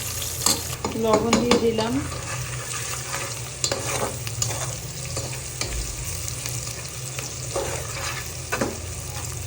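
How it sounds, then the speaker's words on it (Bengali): Cardamom, cinnamon and cloves fry with onions in a pan while being stirred, giving a steady sizzle under close scraping and stirring, and someone speaks briefly. "এর মধ্যে আমি এলাচ, দারচিনি আর লং দিয়ে দিলাম, ভালো করে নাড়িয়ে দিচ্ছি।"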